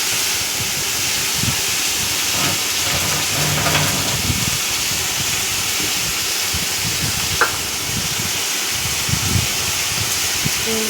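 Ginger and tomatoes hit a pan of already-fried, browned potatoes, giving a loud, continuous sizzle and hiss close by, with faint stirring clatter now and then.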